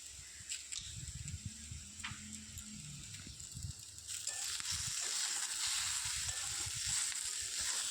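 Food sizzles in a pan with salt added while a utensil scrapes and stirs, and the frying hiss grows louder partway through; the dish is elephant foot yam with shrimp.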